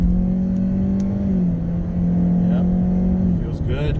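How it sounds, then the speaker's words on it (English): 2021 Hyundai Elantra Limited accelerating through a tight U-turn, a steady engine hum rising and dipping slightly in pitch with tire and road noise, heard from inside the cabin. "this is when you get a nice tight U-turn out the pocket"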